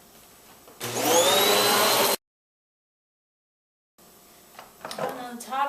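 A Panasonic Jet Force bagless upright vacuum cleaner with cyclonic suction switches on and roars loudly for over a second, then cuts off abruptly. After a silent gap, quieter handling noises follow.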